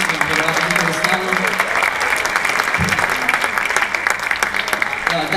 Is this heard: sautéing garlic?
no